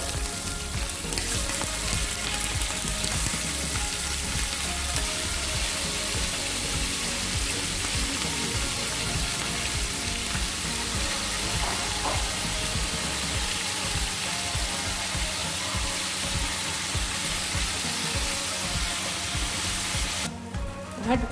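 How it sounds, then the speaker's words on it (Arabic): A kilo of beef pieces fries in hot ghee in a pot for Egyptian fatteh, with a loud, close, continuous sizzle and crackle that holds steady throughout with occasional stirring clinks. "هسيب السمنه تسخن. اول ما السمنه تسخن هنزل كيلو من اللحمه"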